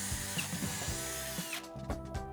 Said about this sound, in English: And then after that, I drill the bottom 2